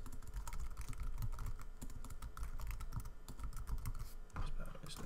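Quiet, steady typing on a computer keyboard, with rapid, continuous key clicks throughout and no voice heard.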